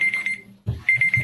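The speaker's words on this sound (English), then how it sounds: "buzzer went off that I thought I had off" A buzzer alarm beeps in a high, repeating tone, pausing briefly before sounding again, close and fairly loud.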